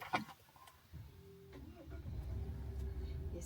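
A car engine starts, driven by a new driver: faint quiet at first, a soft click, then a low rumble builds into a steady, muted idle hum with a faint whine.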